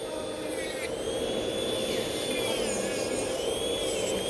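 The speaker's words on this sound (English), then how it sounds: "See, I'm filing below the lifting." An electric nail file grinding gel nail below a lifted area during a gel rebalance, a steady high-pitched whirring drone with slight pitch wobbles, close and continuous.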